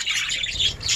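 Pet birds squawking and chirping at a house, a steady mix of close, shrill calls and tweets filling the whole moment with no talk.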